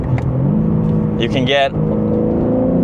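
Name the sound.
2026 BMW M3 Competition twin-turbo exhaust revving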